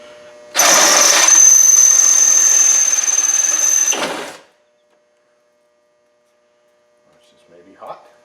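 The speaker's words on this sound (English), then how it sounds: "now we will take and drill these two rivets out here." A loud, close power drill whines steadily for about four seconds while drilling out rivets, then stops abruptly, leaving near silence before a faint clatter.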